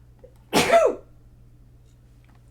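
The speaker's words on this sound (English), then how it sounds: "sneeze." A single sharp human sneeze bursts out close to the microphone, loud and brief, followed by quiet.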